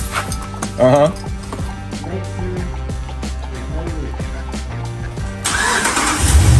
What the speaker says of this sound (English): you gotta turn the car on, don't you?